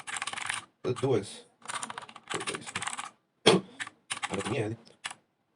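Typing a git commit message on a computer keyboard, with quick runs of clicking keystrokes in short bursts while someone speaks between and over them.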